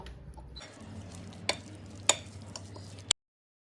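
Plantain curry with curry leaves, coconut oil, coconut and green chilli is stirred in a pot, a soft low sizzle with a few sharp spoon taps against the vessel before it stops.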